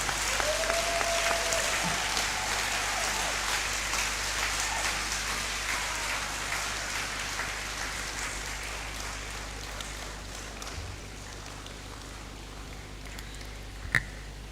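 Audience applause after an inaugural professorial lecture, a broad, dense patter of many hands clapping that stays steady and slowly fades over a low hum, with a sharp bump near the end.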